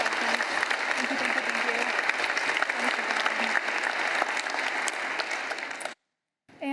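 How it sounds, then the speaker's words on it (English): Audience applauding panelists at the close of a platform engineering panel discussion, a steady wash of many hands clapping for about six seconds before cutting to a brief silence and a faint restart. "I just want to give a huge round of applause to our 4 panelists"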